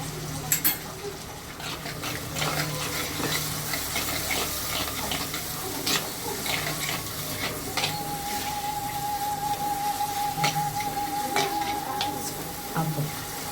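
Chopped tomatoes and salt fry in an oiled pan for a pundi (tamarind-leaf) pepper kuzhambu, giving a continuous soft sizzle with scraping, stirring strokes and occasional clinks, fairly close and even throughout.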